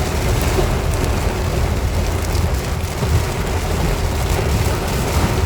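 Heavy rain pouring in a loud, continuous roar with a deep rumbling undertone, steady throughout and close by.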